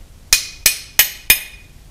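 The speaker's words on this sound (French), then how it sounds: "On aligne et on tape dedans. Alors j'utilise un marteau standard" A standard hammer gives four light, evenly spaced metallic taps, driving a part into a milling machine dividing head under restoration. Each strike is sharp and ringing in a quiet workshop.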